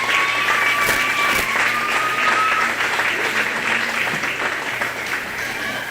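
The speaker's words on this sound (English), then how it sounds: "If you guys could all give our exhibitors a big round of applause." Audience at a county 4-H and FFA swine show applauding the exhibitors, a steady, dense wash of clapping from a sizable crowd that holds for several seconds, with a faint tone running underneath.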